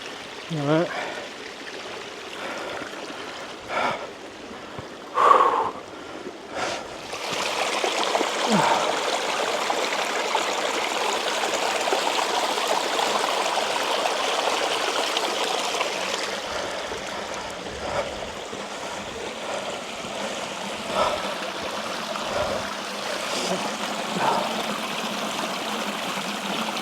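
A mountain stream on Ben Nevis flows and trickles steadily under cloud, a continuous close rushing babble with occasional bumps and wind, and people talk at moments over it.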